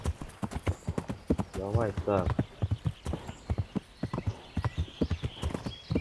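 Steady galloping horse hooves in Kingdom Come: Deliverance, rhythmic clip-clop strikes running throughout while someone speaks briefly over them midway.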